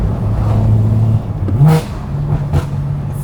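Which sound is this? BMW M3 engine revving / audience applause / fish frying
BMW M3 engine revving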